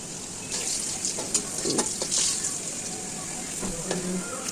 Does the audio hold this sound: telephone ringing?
no